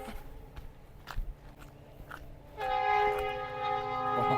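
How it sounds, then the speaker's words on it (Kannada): A train rumbles steadily in the distance, then a long sustained horn blares and holds to the end. "ಅಲ್ಲಿ ಹೋಗ್ತಾ ಇದೆ ನೋಡಿ ಟ್ರೈನ್"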